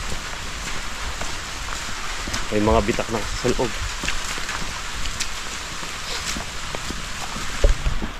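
Steady rain hisses on surfaces all around while preparing a boat, with close patter and a brief voice speaking in Tagalog partway through.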